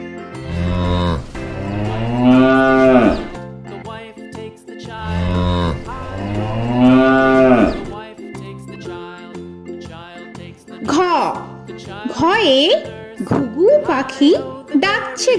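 A cow lows twice in long, loud, drawn-out moos with a calf nearby, followed by a sung children's rhyme.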